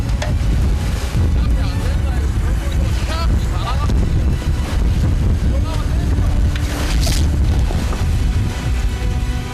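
Strong wind roars steadily at sea aboard an anchovy fishing boat off Gijang as the net is hauled in, with broadband gusts and buffeting on the microphone, engine rumble and water beneath, and crew voices talking throughout.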